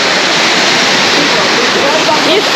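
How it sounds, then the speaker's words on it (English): A waterfall pours water down into the pool below, a dense, steady roar of rushing water that stays loud and close for the whole stretch. "these are very beautiful scene, and the water is flowing down there below"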